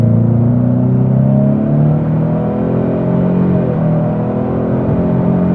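2026 Ford Mustang EcoBoost Premium with its turbo 4-cylinder and performance exhaust in normal mode accelerating hard, a loud, close, rising engine drone and rumble that climbs in pitch and then levels off, with no talking over it.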